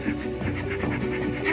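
A cartoon dog pants quickly and steadily in The Adventures of Tintin video game, with short breathy huffs repeating close up for a brief moment.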